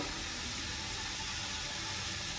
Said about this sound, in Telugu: గిన్నె నిండా వాటర్ పోస్తున్నారు